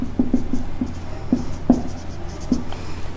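Chalk or marker strokes write math equations on a classroom board, a series of short scratchy taps and scrapes in an irregular rhythm, close and fairly clear, with no talking.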